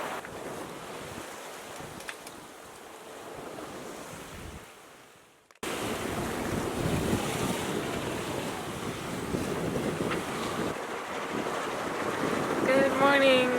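Wind and breaking waves rush steadily around a sailing boat on an offshore passage off the Venezuelan coast, a broad constant roar that drops briefly and then returns louder and fuller, with gusty wind noise on the microphone.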